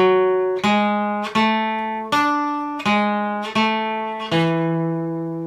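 A funky guitar lick played slowly: six or so evenly spaced single notes, each ringing clearly and fading before the next, close and alone.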